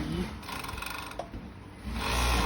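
An industrial sewing machine stitches a polo shirt body, with its presser foot lifted partway through. A close, steady mechanical whir briefly eases off, then runs up again.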